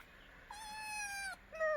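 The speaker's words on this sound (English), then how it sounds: "these two kittens in our village, so clearly very hungry" A hungry kitten meows twice in a village, two short rising-and-falling cries close to the listener, thin and fairly quiet against faint outdoor background.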